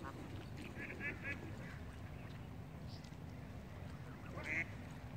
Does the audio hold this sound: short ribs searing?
no